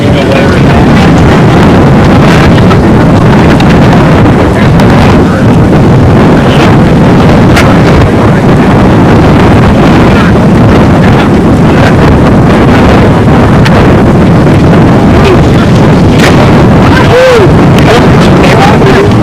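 Strong wind buffets the microphone without pause at an outdoor RC model pylon air race, a loud, steady roar that buries any other sound.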